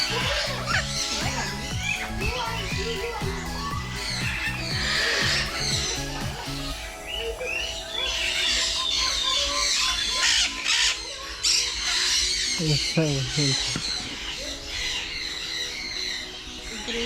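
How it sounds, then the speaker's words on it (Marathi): A kala daku parrot at a bird park gives loud, harsh, repeated squawks, with other birds chattering and screeching around it and voices talking in between. "तो काला डाकू पोपट आहे."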